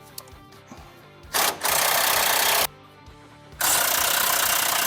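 A power impact wrench with a 21 mm socket buzzes in two loud bursts of about a second each, removing tie rod ends on a Dodge Ram 2500/3500, with quieter clanking and background noise between the bursts.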